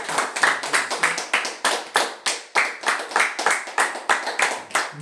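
A church congregation at a Sunday evangelical service in Nantes claps together, a steady run of sharp, fairly loud hand claps across the whole stretch with no talk over it.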